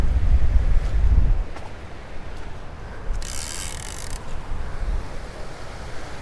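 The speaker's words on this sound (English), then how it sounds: "I'll turn the clicker on just in case I ain't paying attention." A fishing reel's clicker is switched on and ratchets in a short burst of dense, fine clicks at close range, heard over steady wind and water noise while bank fishing on a shallow mud flat.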